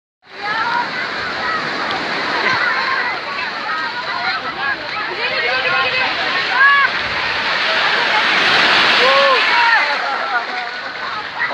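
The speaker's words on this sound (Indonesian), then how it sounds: "Ombaknya makin kencang." Ocean waves surge and wash steadily against a rocky Indonesian shore, a loud continuous rushing broken by splashes and sloshing that swells toward the end.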